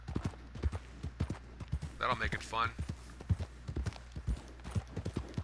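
Horses clip-clop along a dirt road in the Western game Red Dead Online, with a steady run of hoof beats under someone talking briefly.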